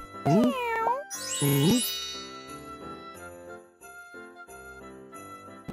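A cartoon cat in a kids' 3D animation lets out two bright, sliding meows at the start, followed by a light jingly musical backing.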